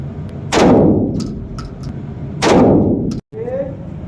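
Two loud gunshots ring out about two seconds apart on an indoor gun range, each sharp crack followed by a lingering echo, with faint background noise between.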